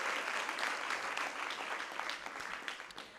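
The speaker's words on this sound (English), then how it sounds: "a round of applause, please, for both teams for such an amazing debate" An audience in a Nairobi-region senior school debate semi-final applauds both teams, giving dense, sustained clapping from a crowd that stays loud throughout and thins slightly toward the end.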